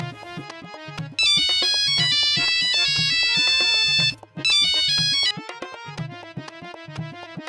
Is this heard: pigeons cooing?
no